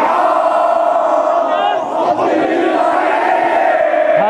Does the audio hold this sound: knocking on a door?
no